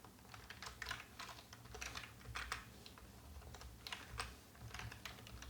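Typing JavaScript code on a computer keyboard, a steady run of close, light key clicks in uneven bursts with brief pauses, alone and fairly quiet.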